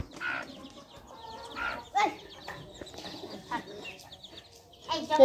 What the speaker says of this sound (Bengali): এই তো তোয়ার মুরগির বাচ্চা বড় বড় হয়ে গেছে, আমরা যেগুলো বাতে দিয়েছিলাম, তাই না তোয়া?